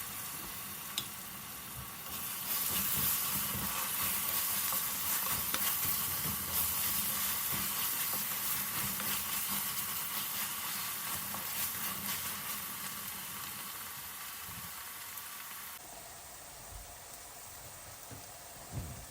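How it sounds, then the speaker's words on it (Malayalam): Chopped onions cooking with salt under a lid in a covered pan, giving a steady soft sizzle and hiss that runs throughout, close and moderately quiet, with a brief lighter clatter near the end. "ഇനി ഒരടപ്പ് കൊണ്ട് മൂടി കുറച്ച് നേരം ഉള്ളി വേവിച്ചെടുക്കാം"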